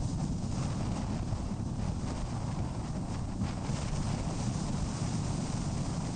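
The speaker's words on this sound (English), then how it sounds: "it sounds windy out there" Steady wind roars outside a parked Cessna F406 in Flight Simulator X at Gambell, Alaska, a continuous broadband rush that stays loud and even from start to finish with no voices.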